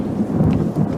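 Heavy rain with a low rolling thunder rumble, a brief continuous storm wash.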